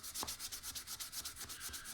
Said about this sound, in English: So I'm just hand sanding the insides, just getting all the rough pieces off.